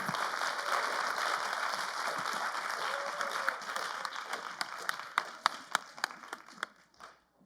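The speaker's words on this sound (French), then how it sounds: "Donne une chaude main d'applaudissement pour nos panélistes" Conference audience applauding panelists after a talk on future careers, a dense wash of clapping that thins into scattered individual claps near the end before stopping.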